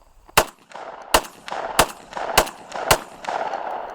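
A Hatsan Escort DF12 semi-automatic shotgun fires slugs outdoors in five loud, sharp reports spaced roughly half a second apart, each followed by a short echoing tail.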